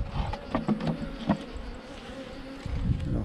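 Honeybee colony humming as its frames are shaken out, a fluttering insect drone mixed with sharp knocks and rattling clunks of wooden frames, close and moderately loud with no speech.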